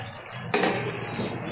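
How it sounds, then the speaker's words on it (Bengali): A lid comes off a cooking pot of simmering okra and potato curry with a single close metallic clink, followed by a steady hiss of steam and low kitchen background. "ঢাকনাটা তুলে দিচ্ছি।"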